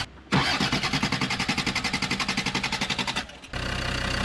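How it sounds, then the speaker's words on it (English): Diesel engine cranking after air was bled from the fuel line, a loud rapid rhythmic chug of the starter for about three seconds before it catches and settles into a steady close idle. "The diesel, it's gonna take a little while to start."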